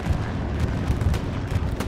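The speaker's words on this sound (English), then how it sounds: "This is a 20-second bomber run going over the front line." Bomber run in Hell Let Loose, a console war game, pounding the front line with a dense, continuous rumble of overlapping explosions and deep booms, loud and sustained with no pauses.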